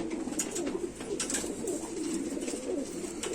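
Pigeons coo softly and steadily in a continuous low murmur, close by, with no one speaking.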